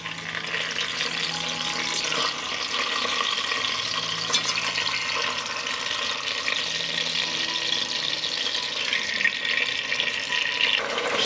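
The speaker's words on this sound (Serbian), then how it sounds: "Na zagrejanu mast ispržit ću kilogram šnicla." A kilogram of schnitzels fries in melted lard in a large pot, giving a loud, steady, hissing sizzle that carries on unbroken with no talk.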